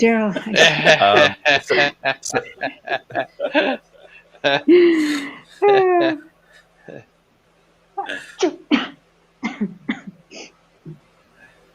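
A sneeze bursts out among people chatting during a live futures trading session, a single sharp, fairly loud burst standing out between stretches of conversation.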